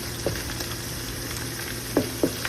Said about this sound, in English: my tomato paste is all fried up